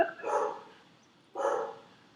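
A dog barks excitedly, two separate loud barks about a second apart with quiet between them.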